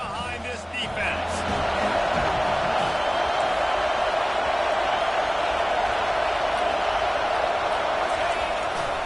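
A football stadium crowd roars behind the defense on a big third down, a steady, loud wall of cheering that swells early and holds, with a commentator talking over it.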